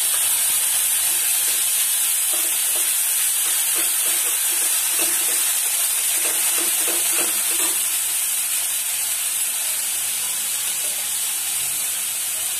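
Mustard paste and onion sizzle in a hot pan with a steady, loud hiss, broken up by scattered crackles and pops from stirring through the middle.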